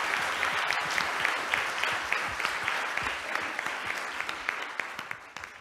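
Steady audience applause fills a public service schools award ceremony, dense clapping of many hands that slowly thins toward the end.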